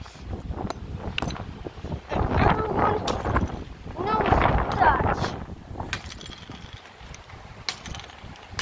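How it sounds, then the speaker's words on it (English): Gusty wind buffets the microphone outdoors, rising and falling in loud rumbling surges, with people talking in between and a few sharp knocks. "Why is it so windy?"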